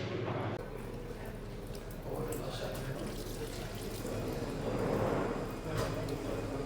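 Tap water runs steadily at a hand-washing spot in a souvenir shop near Petra, Jordan, a continuous close splashing hiss with faint background voices.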